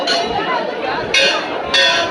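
Temple bells clang at the Baba Dhabaleswar shrine during Maha Shivaratri, two bright strikes ringing out over a noisy, chattering crowd of worshippers.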